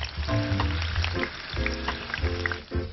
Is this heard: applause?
no